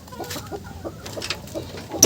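Desi chickens cluck on a farm in a run of short, moderately close calls with soft farmyard background noise, ending in a louder burst.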